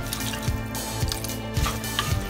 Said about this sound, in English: So I'm going to add water to this